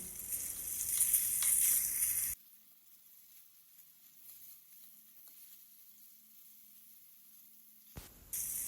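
Pointed gourd (potol) frying in a kadai for a Bengali potoler dorma gives a loud, bright sizzle for about two seconds, then drops almost to silence before a short burst returns at the end.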